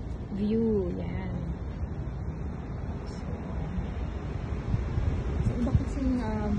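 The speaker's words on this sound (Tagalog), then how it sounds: "Ang lakas ng hangin." Strong wind buffets a microphone on a condo roof deck in Fairview, Quezon City, producing a steady, close low rumble with a person speaking over it at times.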